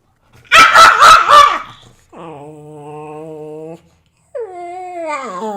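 A dog barks three times in quick succession, loud and close, followed by two long drawn-out whines or howls.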